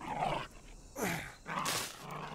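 A dog in the video game Dysmantle gives three short, rough growling bursts, close and moderately loud, separated by brief quiet gaps.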